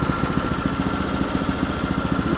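A Duramax 208 cc go-kart engine runs close by at a steady idle, with a rapid, even putter throughout and no voices.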